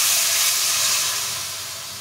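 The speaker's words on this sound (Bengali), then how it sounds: "আম ভাজা হয়ে গিয়েছে, এবার রসগোল্লার রস দিয়ে দিলাম" Rasgulla syrup poured into a pan of frying mango pieces sends up a loud, broad sizzling hiss that slowly fades over about two seconds, with no talking.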